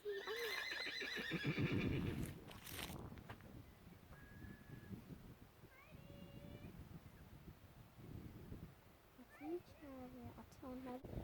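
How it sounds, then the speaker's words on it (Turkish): Horses at a riding stable, with a loud whinny near the start and further short neighs and snorts later, amid children's and adults' voices and outdoor background noise. "Ha, atını çağırıyor sana."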